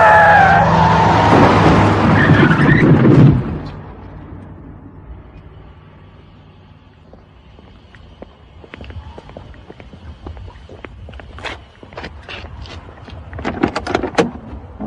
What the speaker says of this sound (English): There's a car. No, a lorry. Oh, it's heading straight for us.